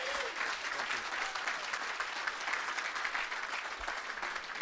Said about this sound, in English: I want a big round of applause for Dan Feehan